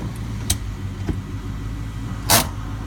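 A rebuilt Ford Mustang engine idles with a steady, low, even rumble, broken by a few sharp clicks and a brief louder burst near the end.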